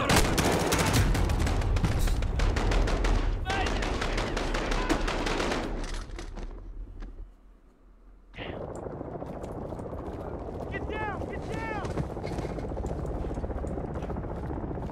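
Call of Duty campaign combat with loud, dense automatic gunfire and bursts, a helicopter-like roar underneath, a brief lull midway, then more shooting; voices shout over the battle.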